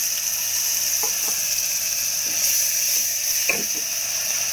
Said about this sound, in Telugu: ఆనియన్ పేస్ట్ చేస్తున్నాము కుక్కర్లోని